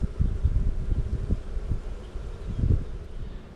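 Honey bees buzzing from an opened hive, a steady low drone close to the microphone with some rustling and handling noise and no talk.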